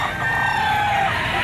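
Rooster at the Lipa auction market in the Philippines, a single loud, drawn-out crow close by over a dense market background.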